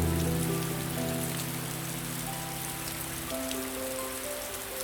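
Rain falling on surfaces in a city at night, a soft steady patter beneath sustained musical tones, quiet and even throughout.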